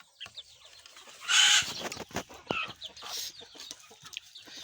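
Chickens cluck and squawk nearby in a rural farmyard, with scattered calls, one louder outburst, and faint movement sounds between them.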